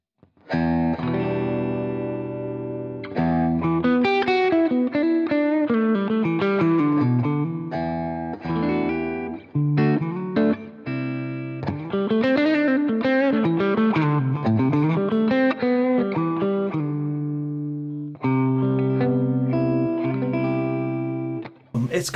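An Ibanez AF75 pink hollow-body guitar played through an effects patch, a melodic run of single notes and chords with a warm, slightly driven tone and reverb, phrases separated by short pauses.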